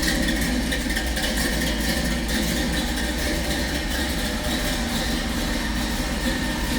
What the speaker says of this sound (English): So obviously the side exiting exhaust.